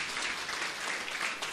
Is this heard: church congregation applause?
yes